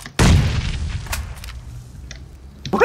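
A grenade explodes in a squad shooter video game: a sudden, loud, booming blast with a rumbling low tail that fades over about two seconds, followed by faint clicks.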